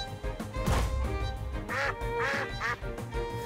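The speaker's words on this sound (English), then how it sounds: "That was like the most basic duck noise ever." A duck creature in the monster-collecting game TemTem lets out a few loud, nasal quacks in quick succession over game music and effects.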